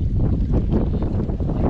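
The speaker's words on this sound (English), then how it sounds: "but it is just really windy" Strong wind buffeting the microphone at night beside a freshwater fishing dock, a loud continuous low roar with rushing gusts and no voices.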